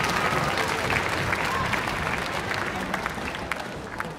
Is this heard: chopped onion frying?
no